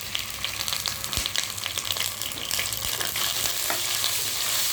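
Onion and ginger paste frying in a pan, a steady close sizzle with scraping stirs and occasional knocks of the spoon against the pan, no talking.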